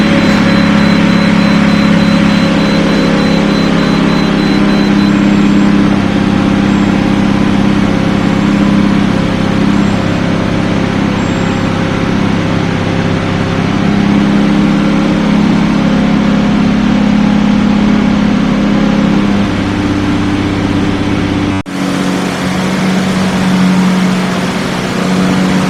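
A 1998 Lamborghini Diablo Roadster runs at a steady, loud, deep idle with a constant rumbling drone close by; a sharp click cuts in near the end and the idle carries on.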